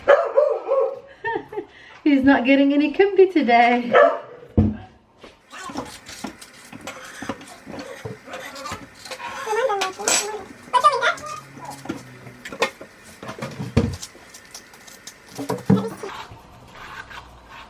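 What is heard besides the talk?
upset dog barking and whimpering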